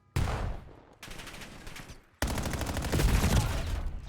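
Bursts of rapid automatic gunfire in a competitive team shooter match, aimed at an enemy trophy: a short volley, a pause, then a longer sustained stream of close, loud shots.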